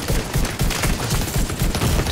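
Sustained rapid turret gunfire in the video game Far Cry Primal, a loud, dense rattle of shots continuing without a break, close and dominant.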